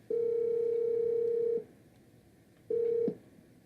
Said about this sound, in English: I keep on getting these phone calls.